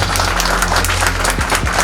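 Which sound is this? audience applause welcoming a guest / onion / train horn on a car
audience applause welcoming a guest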